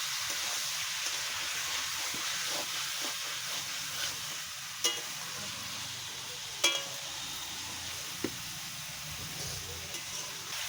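Chicken meat with onions is stirred slowly in a pan in village-style cooking, making a faint steady sizzle with soft scraping and a few light knocks.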